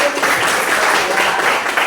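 A classroom of students applauds during a teacher's performance-assessment lesson, a steady, fairly loud wash of clapping across the whole short stretch, with faint voices mixed in.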